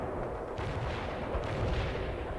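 Gunfire and artillery from World in Conflict, a dense, continuous rumble of distant booms and rattling shots with a couple of sharper blasts layered through the battle noise.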